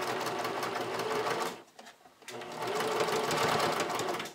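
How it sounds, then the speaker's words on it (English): A sewing machine runs a narrow, tight zigzag topstitch straight across fabric while sewing a bodysuit, a steady close mechanical whir that pauses briefly midway and then resumes. "I'm going to top stitch with a zigzag stitch straight across to anchor it in place"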